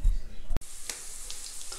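Rice fritters fry in a pan with a faint, steady sizzle, broken by a sharp click and a few soft clatters.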